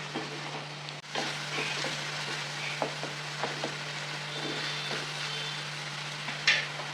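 Peeled tomatoes cook in a pan for a prawn curry, a steady soft sizzle with occasional stirring taps and scrapes, heard close under a constant low hum.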